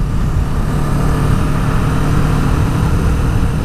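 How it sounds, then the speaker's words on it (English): A Kawasaki Vulcan S middleweight cruiser motorcycle on its stock exhaust gives a steady, loud, close engine drone with a deep low rumble that stays constant throughout, with no talk. "And sounds just about delicious with the stock exhaust."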